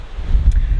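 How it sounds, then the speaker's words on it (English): Strong wind buffets the microphone outdoors, a continuous low roaring rumble with gusty swells throughout the brief moment and no speech. "It is so windy."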